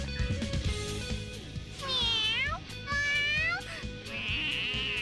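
A cat character in the video game Persona 5 meows several times in a row, each call clear and drawn out, over game background sounds and some talking.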